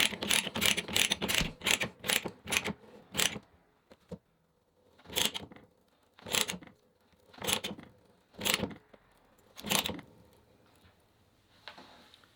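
A pipe threading die cutting threads onto a pipe for pipe clamps: a quick run of sharp ratcheting clicks, then a pause and slower, evenly spaced single clicks as the handle is worked, close and fairly loud.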